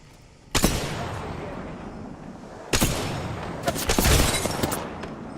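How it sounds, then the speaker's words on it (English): Sniper rifle shots in the PS4 video game Apex Legends: loud, sharp reports with echoing tails, one early, then another, followed by a quick burst of several more cracks near the end. "I sniped the Wraith once too."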